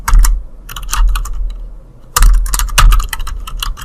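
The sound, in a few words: typing code on a computer keyboard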